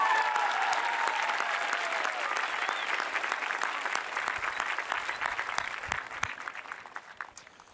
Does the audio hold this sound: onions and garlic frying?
no